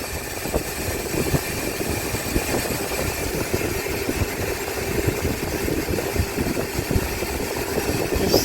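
A Perfect Aire air conditioner running on its high cool setting gives off a loud, steady whooshing roar of fan and airflow that holds constant from start to finish with no talking.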